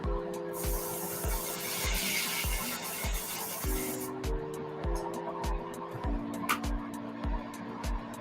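An airbrush blows a steady hiss of plain air with no paint for about four seconds, then cuts off. A compressor thumps in a steady low rhythm underneath throughout.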